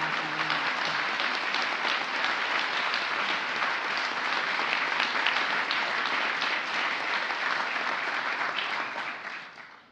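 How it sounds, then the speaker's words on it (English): Sustained applause from a large audience at an International Women's Day awards ceremony honoring women of courage, a dense steady roar of clapping that holds evenly for nearly ten seconds before tapering off at the end. "Please join me in giving a big round of applause to my fellow awardees"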